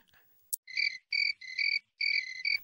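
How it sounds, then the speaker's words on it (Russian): Crickets chirp in a Scooby-Doo video game, The Phantom Knight, as four or five loud, close trilling bursts, each under half a second, separated by short gaps, with no talk over them. "Сверчки?"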